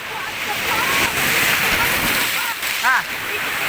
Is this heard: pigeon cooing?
no